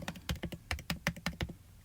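Fingers tapping out a search on a computer keyboard, a quick irregular run of about a dozen crisp, close key clicks with short pauses between bursts and no speech.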